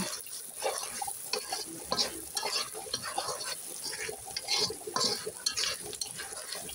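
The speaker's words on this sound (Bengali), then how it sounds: "চিংড়ি মাছ বোনার জন্য পেঁয়াজ ভেজে নিচ্ছি।" Onions fry in a pan for a shrimp curry, a low steady sizzle with faint scraping and occasional small clatters, quiet throughout with no clear talk.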